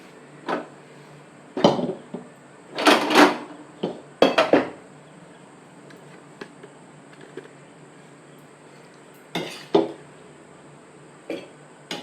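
Potato kurma being scooped and transferred into a pressure cooker, with scattered metallic clinks and scrapes of a spoon against pots, some louder clusters and quieter gaps, close by with no talking.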